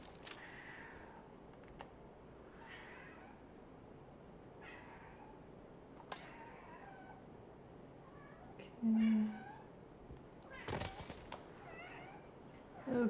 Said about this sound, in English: Yeah, I've got a needy cat.